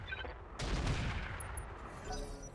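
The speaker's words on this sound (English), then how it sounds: "we can fire on the Sniper Cannon turret with our Thumper Cannons" Thumper Cannons in RogueTech fire on a Sniper Cannon turret, a heavy booming blast that lands near the half-second mark and then rolls into a long rumbling tail of distant impacts and battle noise.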